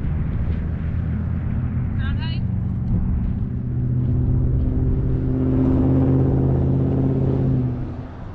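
Steady traffic rumbles along a busy road beside a parking lot, a continuous low drone that swells as vehicles pass close by, then eases away, with no voices over it.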